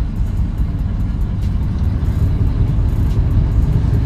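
A Plymouth GTX picture car, push-button started, idles steadily with a dense low engine rumble that holds at a constant level throughout, close by and with no talking.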